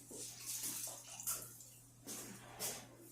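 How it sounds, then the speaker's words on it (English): A towel is rinsed under a running tap during tack cleaning, with soft splashing and gushing water that rises and falls in bursts, quiet and close. "I'm going to rinse my towel a bit."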